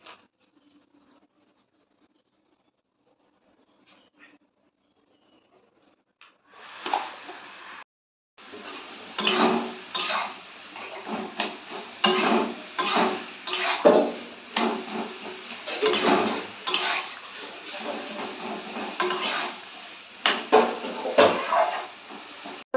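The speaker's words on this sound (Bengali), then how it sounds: "আর এটাকে খুবই ভালোভাবে নেড়ে নিলাম" Vegetables being stirred with salt in a pan: after a quiet start, a continuous uneven scraping and clattering of a utensil against the pan runs loud and close for the rest of the clip.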